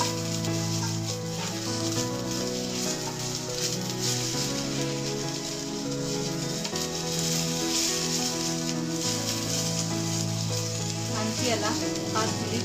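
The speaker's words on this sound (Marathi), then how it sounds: "या भाजीला शिजायला थोडा वेळ लागतो, तर हे कंटिन्यू असं हलवत राहायचं" Okra masala (bhindi) sizzles steadily in a pan over a low flame while being stirred continuously, a dense, even frying hiss lasting throughout beneath constant background music.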